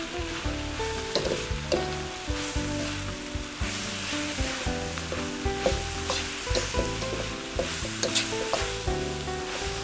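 Stingray and papaya flower stir-fry is stirred in a pan, a steady loud sizzle broken by rhythmic scraping strokes of the spatula repeating throughout, close and without talk.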